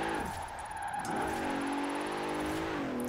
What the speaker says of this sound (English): this is technically just a full-on race car that I'm trying to force to oversteer now